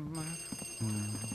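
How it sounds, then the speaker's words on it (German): A telephone rings in the video game Luigi's Mansion: a repeating electronic two-tone ringing in short bursts with brief gaps, fairly faint and steady. "Ach, das Telefon."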